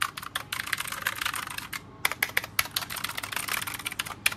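Close, clattering keystrokes on an ROG RGB Aurora keyboard, rapid typing bursts split by a short pause, crisp and dry with no voices.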